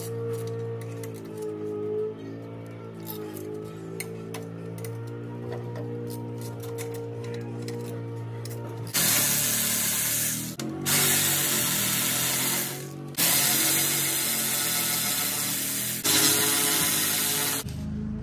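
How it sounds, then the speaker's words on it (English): Power tool bursts undo the 12 mm bolts holding the upper control arm to the ball joint on a Holden Trailblazer 4x4: several loud rattling whirs come after a stretch of quieter mechanical clatter, close and with no voices. "Now we've just got to remove these four 12 mils holding the upper control arm onto the ball joint."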